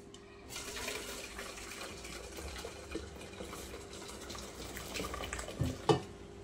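Very hot water pours and splashes steadily into a vessel in a kitchen, ready for cleaning goat tripe. The flow is soft and continuous, with a few louder splashes and clinks near the end.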